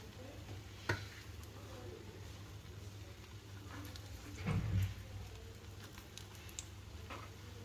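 Bread slices for shahi tukra frying in a pan, a faint steady sizzle with soft patter and a few small ticks, one brief louder burst midway, no talking.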